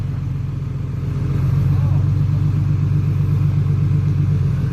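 A Massey Ferguson tractor engine pulling an MF-228 hay baler, a steady loud low diesel rumble with a constant throbbing pulse, close and continuous throughout.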